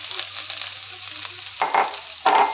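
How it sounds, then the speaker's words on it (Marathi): Grated coconut toasting in a spoonful of ghee in a pan for ukdiche modak, a soft steady sizzle with brief louder bursts of stirring near the end. "थोडस हे खवलेलं खोबरं आहे ते थोडस हलकस भाजून घेणार आहोत"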